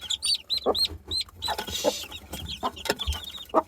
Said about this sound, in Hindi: ये वाइट हीरा के चिक्स अवेलेबल है, ये आप देख लें।